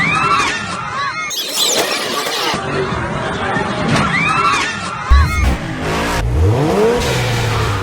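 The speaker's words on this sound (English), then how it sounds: "Another skid and straight into the concrete sidewalk." A Ford Mustang revs and skids, its engine whining and tires squealing at close range, then strikes a concrete sidewalk with a heavy impact thump, while people talk and a crowd murmurs around it.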